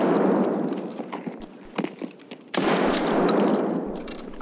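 Rapid bursts of gunfire in Escape From Tarkov on the Factory map, with repeated close shots cutting through and a sudden loud volley near the end, alone without talk.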